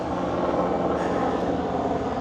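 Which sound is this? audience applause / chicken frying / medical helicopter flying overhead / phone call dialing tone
medical helicopter flying overhead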